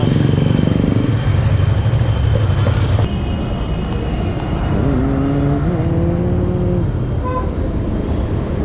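A Yamaha motorcycle rides along the road toward a service center, its engine a loud continuous drone with wind rush, and a rising engine tone appears briefly midway through, with no one speaking.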